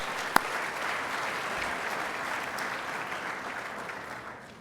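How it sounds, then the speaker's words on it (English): An audience at a school gala applauds steadily, a broad wash of many hands clapping that holds evenly and tapers slightly at the end, heard at moderate distance. "We give another clap."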